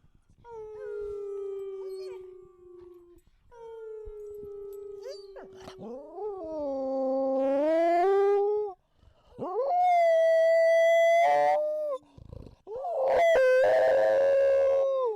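A dog howls in long drawn-out, rising and falling tones, several howls in a row with brief breaks, loud and close, with no talking over them.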